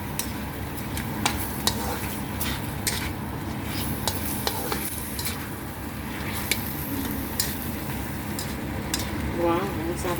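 Chicken tinola with whole peppercorns, papaya and malunggay leaves is stirred in a pot, with a steady bubbling sizzle and repeated scraping and clinking of a utensil against the pot, close and continuous.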